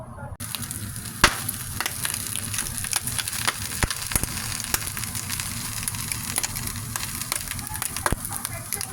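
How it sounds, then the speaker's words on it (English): Bacon frying in a pan, a steady close hiss and dense crackle of spitting fat that continues throughout, broken by a few sharper pops and light scraping. "I'll see you guys when I cook the bacon"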